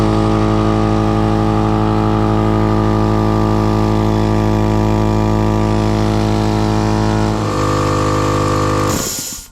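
An air compressor motor runs steadily and loud with a strong harmonic hum as it builds to 120 PSI, then its pitch drops near the end and it winds down and shuts off; no one speaks.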